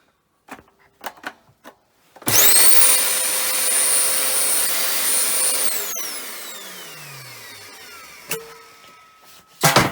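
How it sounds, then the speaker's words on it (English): A small household vacuum cleaner (hoover) switches on after a few light clicks and runs with a loud, steady high whine for a few seconds. It then cuts off and spins down with a falling pitch, followed by more scattered knocks. "The small hoover, well, that worked."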